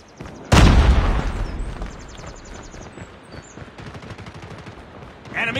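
Frag grenade blast in the Call of Duty Mobile video game: one loud close boom followed by a decaying rumble, then rapid gunfire bursts continuing underneath, with a sharper burst near the end.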